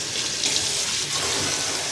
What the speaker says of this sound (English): And we're adding cold water.